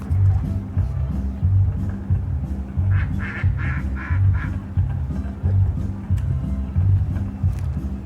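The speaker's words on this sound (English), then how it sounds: "The ducks here are like the same color as the ducks in Lago Atitlan." Black ducks quacking in a bursty cluster partway through, heard faintly over a steady, rhythmic low hum and some background voices.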